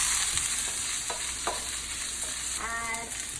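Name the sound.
stir-frying mushrooms and zucchini over high heat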